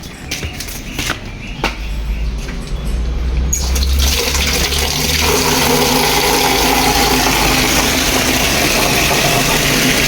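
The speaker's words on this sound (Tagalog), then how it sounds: "Yan ito yung mandarin motor." A shallow well water pump motor kicks on and runs with a steady loud hum, with water rushing alongside it and a few clicks and knocks before it settles into a continuous drone.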